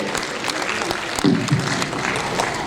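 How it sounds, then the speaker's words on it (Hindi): An audience claps for dance directors at an award ceremony held indoors in a hall, honouring a classical dance event. The broadband applause is steady and moderately loud, with a brief voice partway through. "हमारे नृत्य निर्देशकों के लिए भी आप सब एक बार तालियों के साथ अभिनंदन करते रहे"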